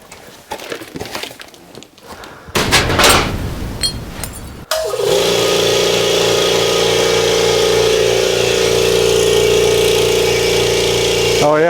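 A Kobalt 26-gallon electric air compressor kicks on after a few seconds of knocking and handling noise. Its motor settles into a loud, steady drone with a constant hum underneath, and no voice cuts in.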